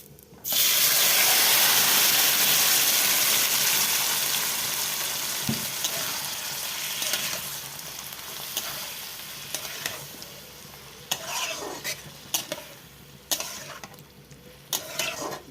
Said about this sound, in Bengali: তো মেখে রাখা তো চিংড়ি মাছ এবং আলুটা আমি এর মধ্যে দিয়ে দিচ্ছি